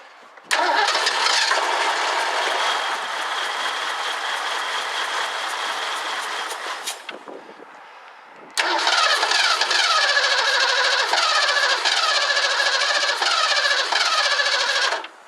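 A 1984 Ford Mustang GT350 convertible engine cranks and catches in a loud, steady roar, cuts out for a moment, then fires again and keeps running rough and pulsing, close by with no talk.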